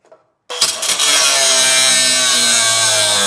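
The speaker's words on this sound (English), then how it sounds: "And the fun part is now that stud needs to go, so we're going to grind it off." An angle grinder cuts off a steel stud in the bed of a 2015 Ram truck, starting abruptly and holding a loud, steady, close high-pitched whine with no talk.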